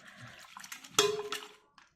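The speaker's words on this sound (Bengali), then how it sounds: "পরিষ্কার জল দিয়ে ধুয়ে আমি দেখাচ্ছি" Clean water running over and rinsing a kitchen strainer, a short splash and gush that swells, then trails off into drips and quiet.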